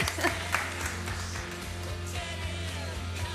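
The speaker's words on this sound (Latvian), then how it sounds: "Aplausi Baibai." An audience at a televised karaoke championship applauds a singer, steady mid-level clapping over a low hum, with faint background voices.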